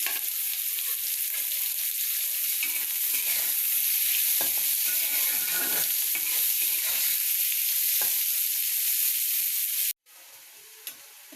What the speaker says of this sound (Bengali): পেঁয়াজটা কিছুক্ষণ ভেজে নেব।